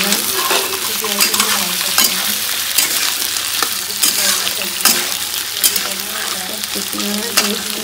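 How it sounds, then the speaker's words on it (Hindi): Potatoes frying in a pan with a loud close sizzle, punctuated by repeated scraping and clinking strokes of a spoon stirring them at irregular intervals. "इसमें डाल दे रहे हैं आप आलू। ये थोड़ा फ्राई हो जाएगा"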